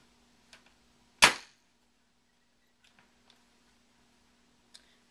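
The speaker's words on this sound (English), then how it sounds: "and these shoot just fine." A UHC Tactical 9 sniper rifle, a spring airsoft gun, fires one sharp, loud snapping shot amid otherwise quiet surroundings, with a few soft mechanical clicks before and after.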